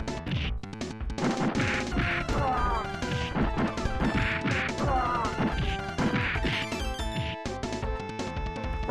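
Barrel smashing in the Final Fight beat-'em-up on the SNES, with repeated crunching smash and thwack hits over loud continuous game music and effects.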